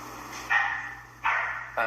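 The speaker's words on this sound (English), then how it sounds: "we got a dog barking" A dog barks three times at a steady pace, each bark bright and fairly close, over a low constant hum.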